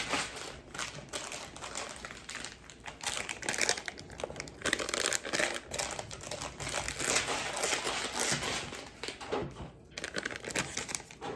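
A Ziploc packet of baking soda powder is shaken steadily for several seconds, giving a continuous close crinkling and rustling of plastic with fast irregular rattles.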